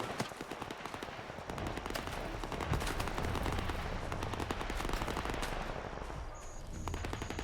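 Sustained automatic gunfire in the shooter game S.T.A.L.K.E.R. 2, rapid bursts rattling in quick succession at moderate distance for most of the stretch, thinning out near the end.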